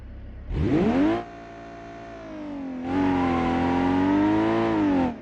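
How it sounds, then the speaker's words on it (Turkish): A Volvo XC90 engine revs in the BeamNG.drive driving simulation game: a sharp rise to a short high rev, a drop back to a steady idle drone, then a second, longer sustained rev at elevated pitch, with no talking. "Ben sustum sadece arabanın sesi konuşsun."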